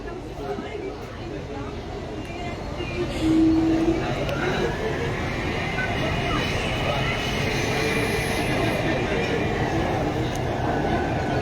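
A Kolkata Metro train runs between stations, heard from inside the carriage as a steady, even rumble and rolling hum with a brief louder swell partway through, and faint indistinct voices underneath.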